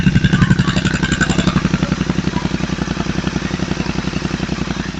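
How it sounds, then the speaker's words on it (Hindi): Royal Enfield GT 650 twin idling through an RRP aftermarket exhaust fitted with a dB killer, a steady loud, close thumping beat with a deep even pulse and no voices. "अभी आवाज सुनो, आरआर की एग्जॉस्ट विद डीबी किलर"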